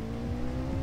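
Aston Martin DBS engine in a racing video game, a steady, loud, humming drone that holds an even pitch throughout with no voices over it.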